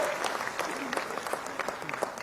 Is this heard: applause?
yes